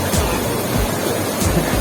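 A 1/10 scale RC car at an off-road adventure event throws up water, a loud, steady, close rushing splash that fills the whole moment.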